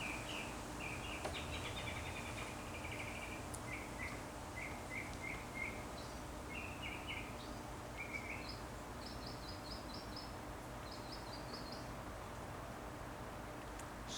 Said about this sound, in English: I'm going to see how the microphone picks up that bird,